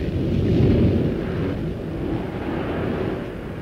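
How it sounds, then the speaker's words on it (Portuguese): A radio-drama sound effect of a stormy sea and wind: a dense, low roaring rumble that swells early and then holds steady, with no voices. "O mar está furioso. O vento terrível."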